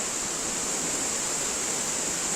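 Steady broadband rush of a river and waterfall flowing, a constant hiss with no pauses, fairly close and unbroken by voices.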